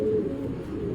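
Racer pigeons coo in low, soft, throaty burbles close by, a short continuous murmur without speech.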